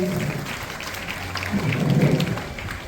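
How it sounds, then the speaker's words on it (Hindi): An audience at a school student council election applauds the newly formed council team, a sustained crowd clapping that swells louder toward the end. "वो सभी के लिए एक बार जोरदार तालियां"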